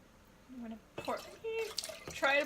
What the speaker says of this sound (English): I'm going to try to pour it in without